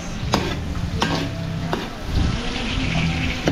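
Garlic and onion sauté in a large catering pan alongside carrots and potatoes, a steady close sizzle broken by a few sharp spatula scrapes and clanks of stirring, with no talk.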